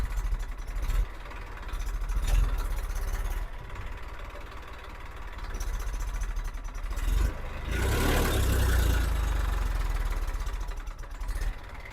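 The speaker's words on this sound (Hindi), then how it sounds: "4 ट्रैक्टर एक साथ आएंगे यहाँ पर" Several Massey tractor engines, including a new Massey 1035 DI, labour through a power test, a steady low diesel rumble that swells louder near the middle and stays heavy to the end with no voices.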